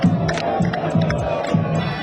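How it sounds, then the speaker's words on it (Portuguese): Figueirense football supporters cheer and chant in loud rhythmic bursts as the team delegation arrives at Orlando Scarpelli stadium, a dense crowd roar with repeated surging shouts. "E a torcida, é claro, faz festa para receber os atletas"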